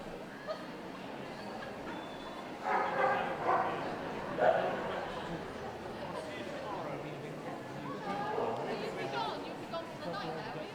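Dogs barking at an indoor gundog-group championship show, scattered distant barks and yips under a steady hall murmur and crowd chatter, with a public-address voice speaking.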